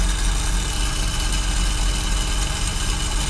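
A 1973 BMW 3.0CS automatic idles slightly low just after a cold start, a steady, low engine idle, loud and close, rumbling evenly without revving and with no voices over it.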